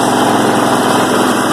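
A lawn mower engine idles steadily during a test run without oil after a mystery oil treatment, a close, continuous buzzing drone that holds even in level throughout, with no talking over it.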